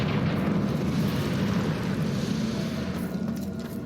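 A roaring fire-spell explosion from Hogwarts Legacy, the Confringo curse, as one sustained loud blast of rumbling burst noise that holds steady for several seconds before slightly easing.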